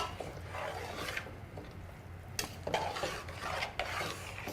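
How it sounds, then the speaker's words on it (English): Beans being stirred into a pot of chili, with a spoon scraping and rubbing against the pot in soft, irregular strokes and a few louder clinks near the end. "And we'll stir that all in."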